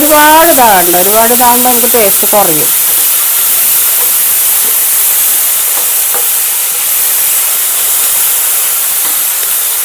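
Chopped onions softening in hot oil in a home kitchen, a loud continuous sizzle and hiss running for about ten seconds, with a brief voice at the start before the frying carries on alone.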